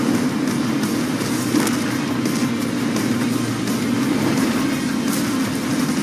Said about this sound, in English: Ensk region features periodically passing trains that create dynamic cover for moving forward